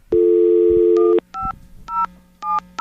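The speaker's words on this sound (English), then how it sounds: "Touchtone phone. We're still using touchtone phones." A touchtone telephone dials a number, one long tone followed by a quick series of short beeping keypresses in an uneven rhythm, clear and close with nothing else heard.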